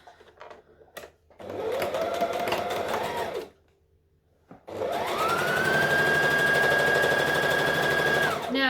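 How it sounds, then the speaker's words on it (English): Up close, a sewing machine runs two bursts while sewing the side seams of a top made from a Butterick B5655 pattern. The first whir is short, and after a brief pause the second runs longer and steady. "So I'm going to put right sides together and then sew the side seams on this."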